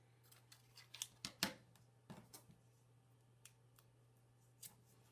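Scissors trim the ends of a ribbon on a hexagon Christmas ornament, a quiet close series of crisp snips in small clusters with pauses between, over a faint low hum.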